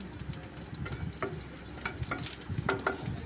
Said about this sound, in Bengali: তেলটি গরম হয়ে আসলে ওর মধ্যে কুচনো রসুনগুলো আমি দিয়ে দিচ্ছি